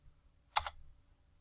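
Two quick keystrokes tap on a computer keyboard while a command is entered in AutoCAD. The crisp clicks are close and land back to back in an otherwise quiet room.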